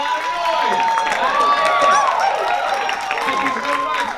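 Audience at a stand-up comedy show clapping and cheering, a dense continuous crowd roar with scattered whoops, a voice talking over it.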